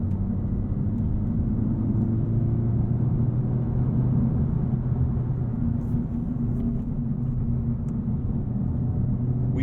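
Honda Civic Type R engine in sport drive mode, a steady low drone and road rumble from inside the cabin, continuous and fairly loud with no talking.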